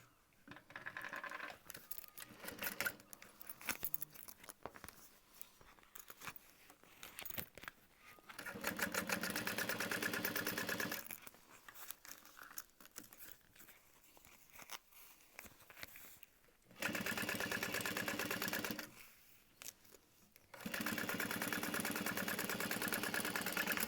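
Sewing machine top stitching a fabric crossbody bag, running in several bursts of steady mechanical whirring separated by pauses with small clicks and handling noise, close and fairly loud, without speech.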